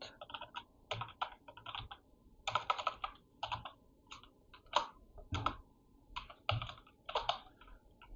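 Quick bursts of keystrokes on a computer keyboard, typed in a few short clustered runs with brief pauses between them, close and clear with no talking.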